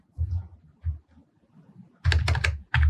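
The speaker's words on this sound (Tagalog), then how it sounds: "So far, maganda naman ang tunog ng mga keys." Keys clack on a Zeus K007 RGB keyboard, a budget 87-key board with a mechanical feel: a few soft taps, then a quick loud burst of close typing and a final cluster of presses.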